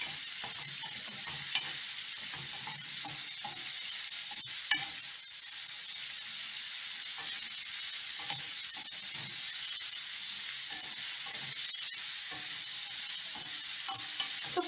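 Shrimp cook in a pan and are stirred now and then, giving a soft, steady hiss of frying throughout with a few light clicks of the utensil.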